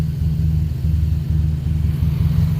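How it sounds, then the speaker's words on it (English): Several cars and a truck being repositioned in a yard so a hatchback can be parked in back, giving a continuous low engine rumble nearby with slight rises in revs and no talk. "We've got to move a couple cars around right now to put the hatch back in the backyard."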